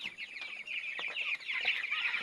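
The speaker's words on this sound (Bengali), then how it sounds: "এই যে মুরগির বাচ্চা এটা।" Small chicken chicks in a group, cheeping continuously with many overlapping high, rapid peeps, fairly close but moderately quiet, no talking.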